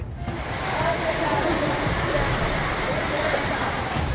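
Dense, roaring rush of fast-flowing floodwater, a continuous broadband torrent that swells in the first second and stays loud throughout.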